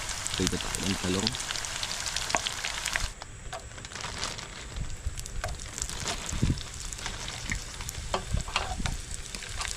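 Eggplant frying in a pan at a riverside campsite, a steady dense sizzle and crackle with scattered pops and clinks of stirring, voices talking faintly underneath.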